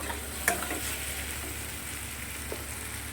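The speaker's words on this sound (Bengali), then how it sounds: "অর্ধেক একটা বড় টমেটোর অর্ধেকটা দিয়ে আলুগুলো দিয়ে ভালো করে ভেজে নিয়েছি" Potatoes frying in a pan with onion, garlic and tomato, a steady close hiss of sizzling oil with a couple of faint clicks, no voices over it.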